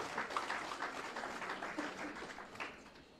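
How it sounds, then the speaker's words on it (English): Applause from the audience at a staff retreat and award ceremony, a fairly quiet, steady patter of many hands spread over the whole stretch, heard from some distance in a hall. "Can we give the institution a round of applause for that?"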